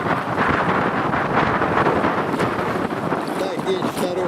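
Strong wind buffets the microphone on a river rafting trip down the Luga, a loud, continuous rushing roar with gusty surges and no clear pauses throughout.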